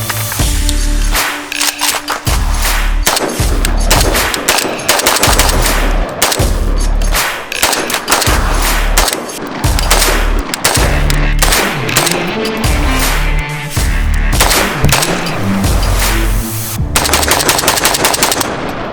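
An AK-47 rifle fires at a shooting range in rapid bursts and strings of loud, sharp shots with brief pauses between groups, close to the listener.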